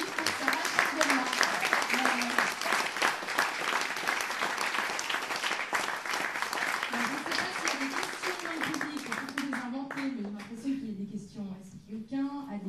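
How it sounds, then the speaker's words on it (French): Sustained applause from a crowd, loud and steady, fading toward the end as a voice begins to speak. "on l'applaudit"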